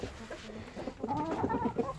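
Buff Columbian Brahma hens on a poultry farm cluck in a soft, uneven series of short calls, fairly close and moderate in level over light background noise.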